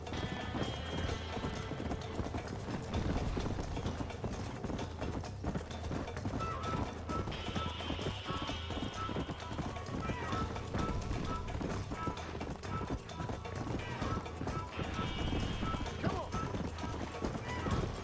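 Horse hooves gallop at a steady, rapid clip-clop through a race in Red Dead Redemption, loud and continuous for the whole stretch, with occasional brighter accents over a dense rumbling bed.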